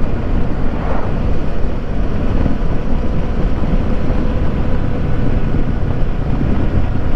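Kawasaki VS650 motorcycle riding along a road on a tour toward Piranhas, Alagoas, giving a steady, loud engine drone mixed with heavy wind rush at the microphone throughout, with no talking.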